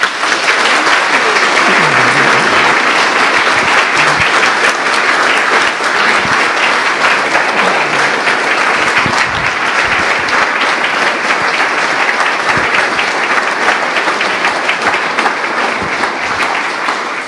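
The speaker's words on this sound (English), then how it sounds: "I hope you'll join me in applauding her for her efforts over the years." Sustained audience applause at an industry award presentation, dense, even clapping that holds loud for the whole stretch before tapering slightly at the end.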